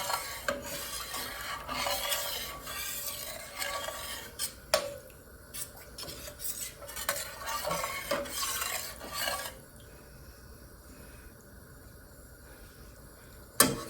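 A utensil scrapes the bottom of a pot holding liquid while a leftover-ham dinner cooks, making repeated quiet rasping strokes up close. The scraping stops partway, leaving near silence, then a single clink.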